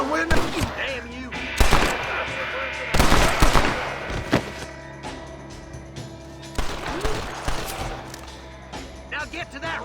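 Repeated loud gunshots crack in a Wild West shootout in the video game Red Dead Redemption 2, with bursts of fire, echoing reports and voices shouting between shots.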